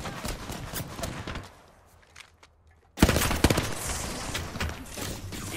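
Rapid gunfire from a new weapon in the video game Apex Legends, dense bursts of shots that drop into a brief lull and then return louder and sustained.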